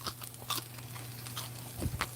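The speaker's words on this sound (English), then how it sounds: "Hear the crunch factor?" Crunchy fried taco, eaten plain without sauce, being bitten into at a Mexican-night cooking show: a few crisp crunching bites close to the mic, the loudest near the end, over a steady low hum.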